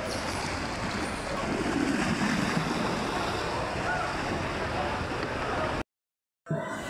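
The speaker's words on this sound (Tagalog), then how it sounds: "Saka na sa Peaceport ang dagat." Storm-driven waves surge and wash at a fishport during a typhoon, a loud continuous roar mixed with wind buffeting the microphone, cutting out briefly near the end; voices are faint beneath.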